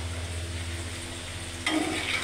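Mixed vegetables are stirred in a cooking pan with a low scraping rhythm over a steady hum, then a brighter sizzle rises suddenly near the end; no one speaks.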